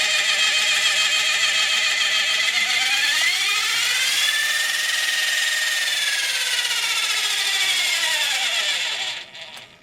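Plastic Smithsonian model gas turbine jet engine running steadily at close range, a constant high whine with a tone that rises and falls as it is throttled, then winding down at the very end.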